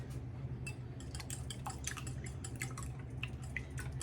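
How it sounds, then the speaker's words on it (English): Eggs scrambling over low heat in bacon grease in a pan, with scattered light taps and scrapes of a utensil against the pan over a soft, steady background hum. "I'm going to scramble these over pretty low heat."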